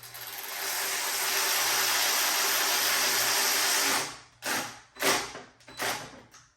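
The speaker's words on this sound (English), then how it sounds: "take your ratchet, whether it's electric or just a manual ratchet" An electric or manual ratchet tightens a spark plug on a 1999-2004 Mustang GT: a steady, loud mechanical whirring runs for about four seconds, then three short, sharp ratcheting bursts follow.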